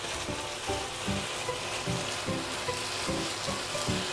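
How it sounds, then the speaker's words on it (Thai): Pork stir-fries with Thai shrimp paste chili sauce in a pan, a steady close sizzle broken by rhythmic scraping strokes of a spatula roughly every half second. "ผัดให้น้ำพริกเราแห้งไปนิดนึง"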